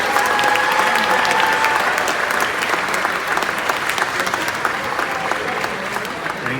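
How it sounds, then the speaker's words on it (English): An audience at a Saint Sava gala gives loud, sustained applause for the evening's two masters of ceremony, dense clapping that holds steady and eases slightly toward the end. "One round of applause for them, please."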